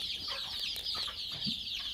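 Busy, continuous high-pitched peeping of about 95 young desi chicks close by in a breeding setup, with a few soft clucks mixed in.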